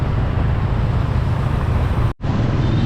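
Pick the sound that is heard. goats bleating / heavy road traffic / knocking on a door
heavy road traffic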